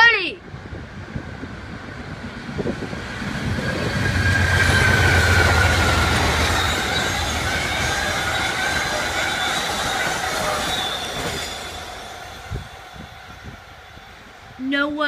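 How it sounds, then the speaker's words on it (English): Amtrak 67, a southbound passenger train on track 3 led by heritage unit 130, rolls past at close range with a loud, sustained rumble of wheels and rails swelling mid-pass, faint wheel squeal, and brief voices at the edges. "Amtrak 67 South on 3 with a surprise visit from 130."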